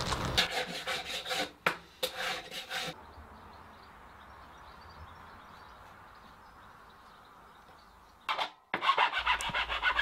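A wooden walking staff end is rasped down to fit a ferrule, with bursts of rough filing strokes at the start and end separated by a long quiet gap.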